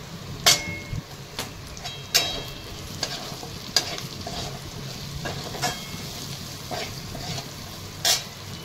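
Grated coconut and turmeric sizzling and frying in a pan for a spicy Kolhapuri-style farsan curry, with a steady crackle broken by sharp scraping stirs of a spoon at irregular intervals.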